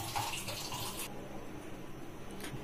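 Water poured from a glass over cut, pitted mangoes in a pot for aam panna, a soft splashing pour for about a second, then fading to a quiet trickle and faint drips in a kitchen.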